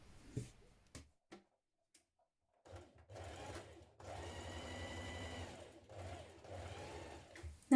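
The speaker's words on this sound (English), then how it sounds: "We're going to stitch down this line to create that first pleat" A domestic sewing machine stitches a pleat on a wrap dress bodice, starting after a few soft handling clicks and then running as a steady close mechanical whir that briefly pauses and resumes.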